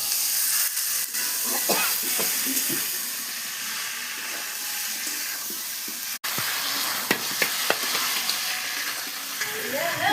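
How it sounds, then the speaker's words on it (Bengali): Pre-fried potatoes drop into a hot pan and fry with a steady broadband sizzle, a few scraping stirs and a short break midway, while faint talk sits in the background. "ভেজে রাখা আলুগুলো দিয়ে দিই।"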